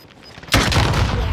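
Gunfire in the video game Call of Duty: Modern Warfare erupts suddenly as a loud, dense burst of shots after a quiet stretch, sustained and close.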